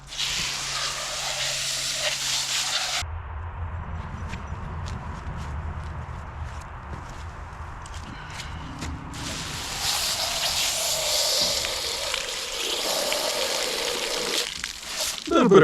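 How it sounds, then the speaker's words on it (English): Water hisses steadily from a spray nozzle into the openings of a cleaned animal skull, the spray continuous and close, with a quieter stretch midway and faint knocks throughout. "Spray in every opening that you see."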